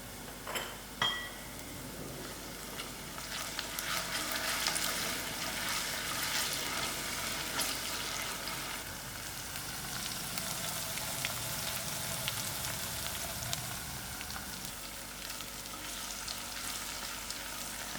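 Onions fry in a pan with curry leaf, ginger and garlic, giving a steady, even sizzle with a faint clink near the start and no talking.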